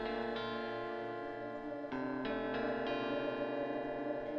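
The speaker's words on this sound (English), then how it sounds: "the dissonance from those guitar riffs" Distorted electric guitar riffs from a Dir En Grey song, with sustained, heavily effected chords that shift in several abrupt changes over a steady, loud, reverberant wash. No one speaks.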